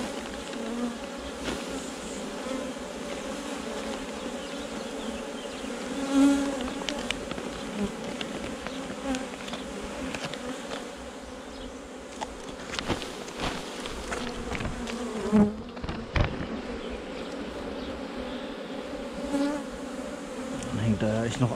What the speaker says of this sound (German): Dann hängt da ja echt noch einiges hier an Bienen unten drunter.